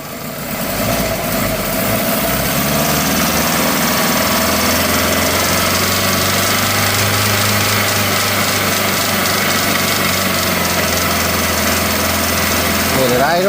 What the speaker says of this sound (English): So we're going to raise engine RPMs.